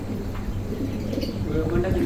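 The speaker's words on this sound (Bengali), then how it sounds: "অনেক বিগ সাইজের কবুতর অনেক বড় সাইজের কবুতর" Large pigeons coo in low, throaty murmurs, several birds close by with a faint chirp mixed in, over a busy background.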